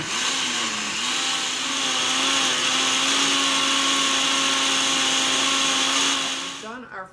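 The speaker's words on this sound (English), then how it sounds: "So we're going to put this in the blender." A blender whirs loudly and steadily for several seconds blending hot butternut squash soup, its motor pitch shifting slightly before winding down at the end.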